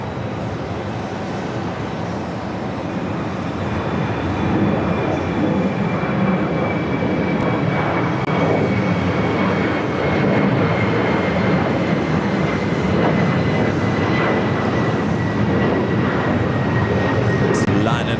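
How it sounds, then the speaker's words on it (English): Boeing 747 taxiing along a JFK taxiway, a loud continuous jet engine rumble with a thin steady whine, holding fairly even throughout. "this Queen will head down the taxiway and cross paths with that Lufthansa Queen"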